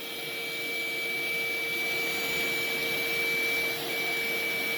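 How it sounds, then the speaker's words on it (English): A cordless handheld car vacuum cleaner runs on carpet with a steady, high-pitched motor whine and airy suction rush, holding constant at moderate loudness and dipping briefly near the end. "let's give it a shot with the Hello vacuum"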